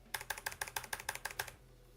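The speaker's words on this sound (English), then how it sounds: "can you guys hear my keyboard?" Quick bursts of keystrokes on a computer keyboard, about ten crisp clicks in rapid rhythm over two seconds, close and fairly quiet, then silence.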